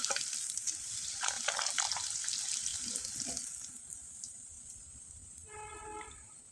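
Crisp wheat flour pitha fry in hot oil with a bright, steady sizzle and scattered pops, close up, fading gradually as a faint tonal hum enters near the end.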